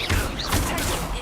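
Spell blasts in Hogwarts Legacy crackle and burst in a dense, loud barrage of overlapping impacts and whooshes, filling the whole short stretch without pause.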